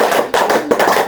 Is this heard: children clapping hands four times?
yes